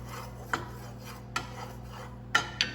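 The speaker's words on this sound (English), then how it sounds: "And we'll stir that around just a hair." A spoon stirs Mexican oregano through oil in a pan, giving four brief, light scraping clinks spaced irregularly over a steady low hum; the sounds are fairly faint and close.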